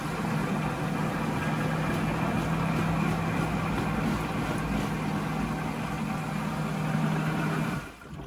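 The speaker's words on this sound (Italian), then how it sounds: "E adesso proviamo a tirare lo sciacquone e vediamo se il motore parte." A Sanipack macerator pump motor starts after a toilet flush and runs as a steady, continuous hum with rushing water noise, close and fairly loud, before cutting off at the end.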